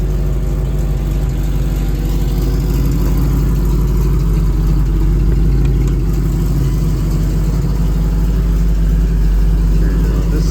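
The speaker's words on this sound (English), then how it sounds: "Got a little bit of a manifold leak we need to take care of down here on the bottom, sounds like." A 1972 Chevrolet El Camino's 350 V8 idles steadily up close, a loud, constant low rumble with a faint rapid ticking from an exhaust manifold leak.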